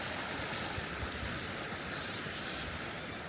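Ocean surf pushing into the mouth of a freshwater stream on the Big Sur coast of California, a steady, dense wash of rushing water and churning waves with no voices.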